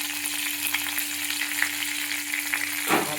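Curry leaves and cumin seeds fry in hot oil with a dense, close sizzle, ending in a louder burst of crackling near the end.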